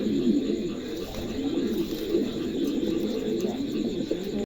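Pigeons coo softly and continuously, low throaty murmurs overlapping one another, close by with no talking.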